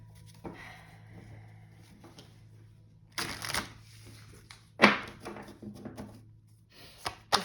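Tarot cards being shuffled in quiet bursts, soft riffling and patting with a sharper snap near the middle, over a low steady hum with no talking.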